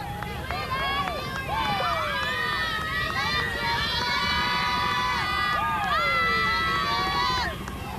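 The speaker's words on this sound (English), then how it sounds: "and you can hear the crowd." A crowd cheers and shouts along a street during Rosa Parks' funeral procession, with high voices and whistles rising over a steady roar, and nearby people talking throughout.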